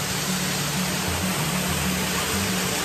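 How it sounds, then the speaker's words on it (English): Waterfall on the Everest Base Camp trek in Nepal roars as a steady, loud broadband rush of falling water, constant and unbroken throughout. "Check out this waterfall behind me."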